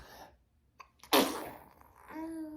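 A single sharp sneeze bursts out, preceded by a short breathy intake and followed by a faint voiced sound.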